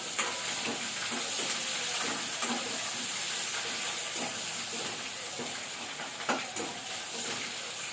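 Onions frying in hot oil in a pan with mustard seeds, cumin, urad dal, dried red chillies and curry leaves, giving a loud continuous sizzle with occasional stirring clicks throughout.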